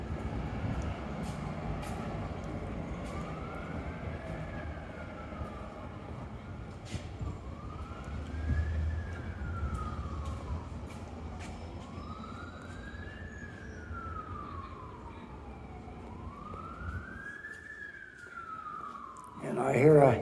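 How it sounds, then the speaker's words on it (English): A distant ambulance siren wails in slow rising and falling sweeps, four cycles, over a low steady rumble, ending with a brief louder clatter. "And I hear a siren of something. Sounds like an ambulance with that sound, I would say."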